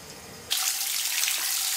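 Water from a water heater drain hose runs into a bucket during a flush, starting abruptly after a brief hiss and then pouring in a steady, splashy stream, nearby, with no voices.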